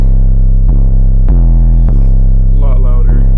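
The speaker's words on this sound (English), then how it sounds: "So what I did was I added some distortion to the 808," Loud, heavy 808 bass tone with distortion and EQ, sustained low harmonics renewed by a few sharp attacks roughly every half second, alone in a rage-style beat mixed with black metal.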